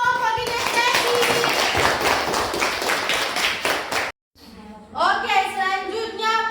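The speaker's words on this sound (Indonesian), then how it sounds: "tepuk tangan untuk kelompok kinestetik" Students in a classroom clap for a group in a burst of brisk hand claps mixed with chatter, then after a sudden brief silence children's voices are heard.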